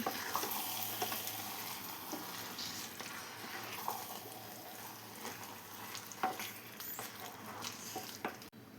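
A kappa (tapioca) stew being stirred and mixed in a pan gives a quiet, continuous scraping and soft sizzle, with a few sharper clinks of the utensil against the pan and no talking.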